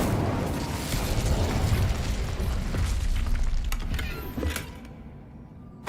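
The Incendio fire spell from Hogwarts Legacy sets off a roaring, crackling burst of flame with a few sharp pops, then fades away to near silence.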